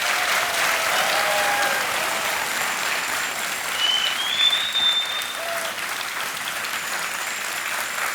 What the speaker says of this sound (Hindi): तालियां बजनी चाहिए जोर से।